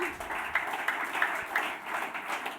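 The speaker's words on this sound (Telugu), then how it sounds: "చప్పట్లు గట్టి కొడదామా?" An audience at a Christmas church gathering claps together in a dense, moderate ripple of applause heard from within the hall, with no talk over it.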